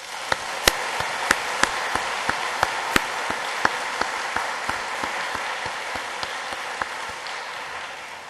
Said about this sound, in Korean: 지난 1년 동안 넘치는 은혜를 베푸신 하나님께 영광의 박수를 올려드리겠습니다